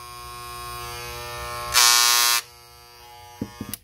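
A Magic Clip cordless hair clipper runs with a steady electric buzz, then swells into a louder, brighter whine for about half a second as the blade is adjusted. It settles back to the hum, followed by a few small clicks near the end.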